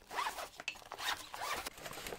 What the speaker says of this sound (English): It has YKK zippers on the outside